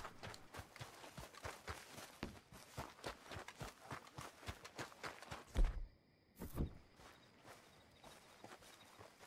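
Rhythmic horse hoof clip-clops in Red Dead Redemption 2 patter steadily at a trot for several seconds, then stop, followed by a couple of sharp thuds and near silence.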